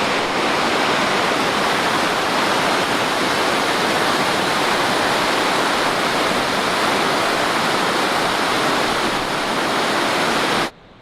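Loud, steady roar of river rapids rushing through a remote Canadian wilderness canyon, a dense broadband wash of churning whitewater that holds constant and close for about eleven seconds before cutting off abruptly at the end.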